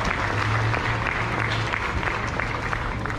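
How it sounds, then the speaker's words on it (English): Audience applause fills a livestock show arena, steady and dense throughout, honoring the winning trio of FFA student-raised steers at the East Texas Yamboree. "A nice trio, give them all a round of applause"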